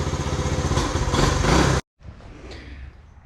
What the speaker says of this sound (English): Bike runs.